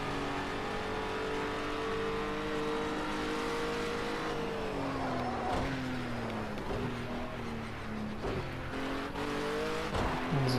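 A race car in a video game race roars through gear changes, its engine note climbing and dropping with shifts and brief tire squeal, continuous and fairly close with no one talking over it.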